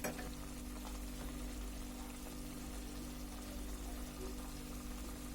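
Molai fish chorchori frying in a pan while being stirred, giving a steady, dense sizzle with a faint scraping texture throughout and no talk.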